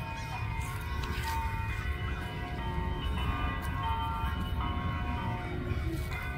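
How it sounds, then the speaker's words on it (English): Church bells ringing at noon at the Mission Nombre de Dios shrine, steady sustained tolling tones layered over outdoor ambience, fairly loud and continuous throughout. "Church bells. Oh, the bell's right there."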